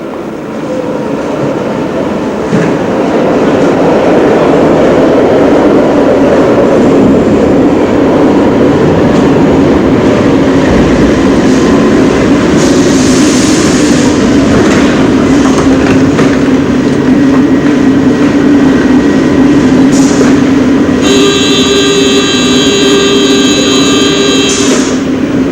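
A vintage tram rolls past on a Brussels tram line, a steady loud rumble building over several seconds, with wheel noise and a bright sustained tonal squeal or whine near the end.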